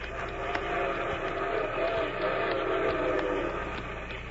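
Train passing in an old time radio drama, a steady loud rumble with whistle-like tones sustained throughout the few seconds, with faint voices underneath.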